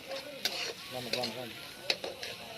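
Tomatoes cooking for chicken curry in a pan over a wood-fired stove, a soft sizzle with a few sharp clinks of stirring, faint and close, no talk.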